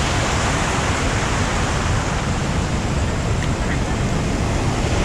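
Ocean waves on a south coast beach wash in as a steady, dense roar of surf, close and continuous with no distinct breaks.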